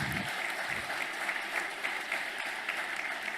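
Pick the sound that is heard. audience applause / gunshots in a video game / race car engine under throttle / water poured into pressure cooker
audience applause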